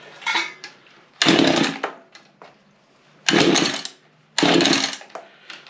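Small Mantis tiller engine that had been sitting unused, cranking and catching: four loud, rough bursts of engine noise, each under a second to about a second long, separated by quieter gaps, close by with no voices.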